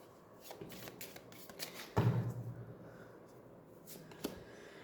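Tarot cards are shuffled and drawn by hand, soft riffling and sliding flutters with one sharper slap of the deck midway, quiet and close with no talk.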